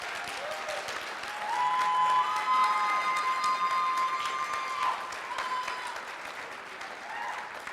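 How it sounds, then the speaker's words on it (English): A graduation audience at Metro High School applauds the staff, sustained crowd clapping with some cheering and a whistle-like tone rising through the middle, fading slightly toward the end. "please, and give them an applause"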